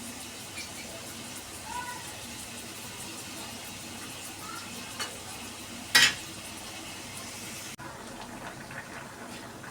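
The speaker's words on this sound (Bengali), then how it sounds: "ঝোলটা তো ফুটে উঠেছে" A pan of prawn curry broth comes to a boil after water is added, giving a steady, low bubbling simmer throughout, with one brief sharp clink of a utensil partway through.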